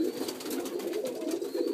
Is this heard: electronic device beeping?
no